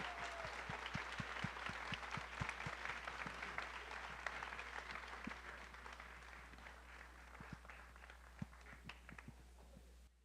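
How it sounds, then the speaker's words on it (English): At a book event for author Lisa See, an audience claps warmly and steadily for about ten seconds, with a low constant hum underneath and the applause gradually thinning. "one more round of applause for Lisa C."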